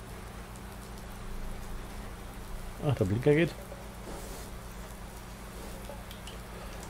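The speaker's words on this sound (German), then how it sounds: "Also wir haben ganz schön Regenwetter hier, muss man so sagen." Rain falls steadily in the farming game Irgendwo in Thüringen 2 during stormy weather, a soft continuous patter throughout while someone briefly speaks in the middle.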